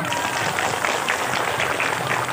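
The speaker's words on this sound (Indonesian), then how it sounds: "tepuk tangan dulu mangga" Audience at a humorous Islamic religious lecture in Bongas, Indramayu, clapping steadily for a couple of seconds, a dense, fairly loud patter of many hands with no pause.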